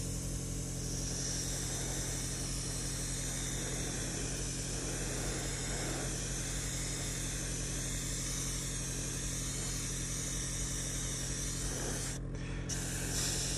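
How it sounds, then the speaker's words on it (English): Badger Velocity airbrush spraying a light, even coat of paint onto a 1/4 studio scale Star Wars speeder bike model; a steady, close, continuous hiss runs throughout, with a brief interruption near the end. "Badger Velocity airbrush. That's fine spraying"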